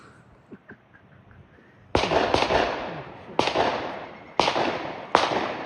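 Gunshots from a nearby shooting area beside a trail near Coraopolis ring out as four loud, sharp reports with echoing tails, after a quiet stretch with faint distant pops.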